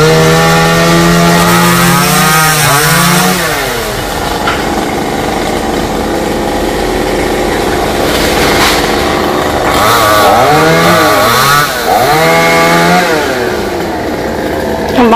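A chainsaw cuts through branches of a xà cừ (mahogany) tree leaning over a corrugated metal roof, the engine roaring loud and close and rising and falling in pitch as the blade bites into the wood, with no talking.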